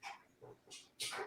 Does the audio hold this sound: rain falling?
no